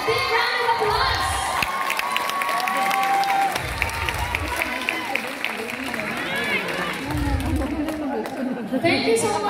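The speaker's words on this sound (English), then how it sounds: "A big round of applause." Clapping and cheering rise from an audience at a modelling awards ceremony as special award winners gather for a photo, mixed with chatter, shouts and a voice over the noise.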